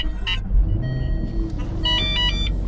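A Jaguar F-Type started with a push button on an aftermarket ignition mod: a steady, close engine rumble runs throughout, joined by short tonal chimes and beeps near the start and again toward the end.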